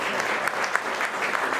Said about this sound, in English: Round of applause for 30 years.